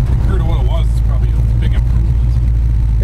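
A 1952 GMC pickup truck engine idles steadily and loudly with a deep low rumble, running smoothly after a low-pressure fuel regulator fix cured its flooding, while people talk over it.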